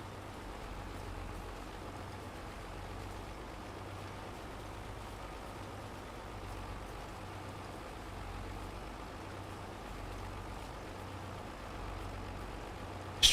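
A tractor engine in Farming Simulator 22 drones steadily at a low, even pitch throughout, with no talk over it.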